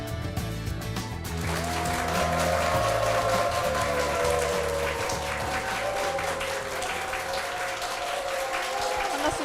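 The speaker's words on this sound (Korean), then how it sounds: "우리 회원분들의 박수와 함성으로 시작을 했습니다." Club members applauding and cheering at a ventriloquism association gathering, a sustained loud wash of clapping that swells after a brief lead-in and carries on steadily, with a sliding tonal sound over it.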